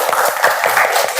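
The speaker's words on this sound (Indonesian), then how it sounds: "Tepuk tangan dulu buat kelompok 5" Brief burst of classroom applause for group 5 during a teaching practice session, dense steady clapping filling the short moment at close range with no pauses.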